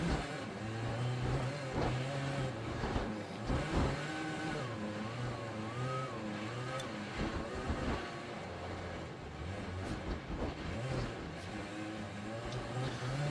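A Lancia 037 rally car in the Assetto Corsa racing game, driving the Livigno stage and held in fourth gear, gives a continuous mid-pitched engine drone that rises and falls slightly with throttle.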